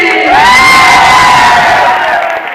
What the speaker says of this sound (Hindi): जोरदार तालियां, जोरदार जोरदार जोरदार जोरदार जोरदार।